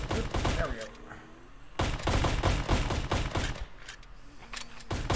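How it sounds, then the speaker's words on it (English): Desert Eagle pistol fired in a VRChat zombie survival game: a busy stretch of loud, rapid shots and impacts in quick succession, with a brief lull midway and faint game noises underneath. "Damn, I love the deagle."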